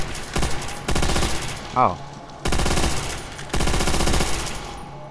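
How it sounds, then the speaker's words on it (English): Sustained bursts of MG42 machine gun fire in a video game, several long rattling volleys separated by short pauses, loud and close, with a brief spoken exclamation and a rising game tone in between. "Oh wait, it's the MG42."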